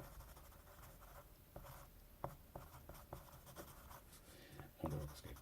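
Pen scratching across paper while Jiu Jitsu notes are handwritten, faint, close strokes with occasional light taps and scrapes in an otherwise quiet room.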